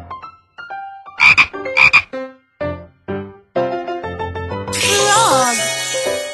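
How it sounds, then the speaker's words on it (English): Two bright cartoon frog croaks ring out close and loud over a playful children's music jingle, followed by a rising whoosh-like sparkle effect as the tune continues. "Frog."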